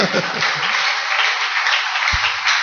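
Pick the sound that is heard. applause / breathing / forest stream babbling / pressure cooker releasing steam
applause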